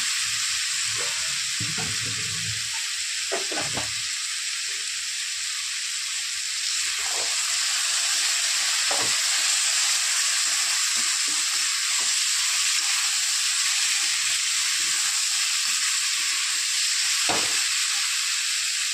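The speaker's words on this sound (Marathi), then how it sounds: "दोन मिनिटं आपण परतून घेणार आहोत। फुलावर" Cauliflower sizzles steadily while being sautéed in a pan, a continuous bright frying hiss with a few stirring clatters near the start, close and alone.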